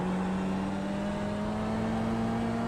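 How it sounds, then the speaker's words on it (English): A steady, droning race car engine note in a racing video game at Okayama, off throttle, hums continuously at near-constant pitch, loud and close, with a faint gradual rise in tone. "you can hear I let off the throttle very early"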